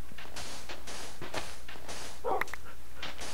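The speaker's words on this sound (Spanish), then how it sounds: "No te muevas, ¿eh, perro?" A dog barks and yips in the Oasis video game, a run of short repeated barks with a whimper-like cry near the middle, over a steady game background with no speech.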